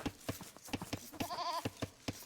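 A sheep in Age of Empires 2 lets out one clear wavering bleat over a rhythmic pattern of soft clicks and taps.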